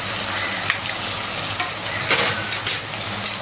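Green chillies and ginger garlic paste sautéing in hot oil for mutton biryani make a dense, loud, steady frying hiss, punctuated by a few scraping stirs of a ladle.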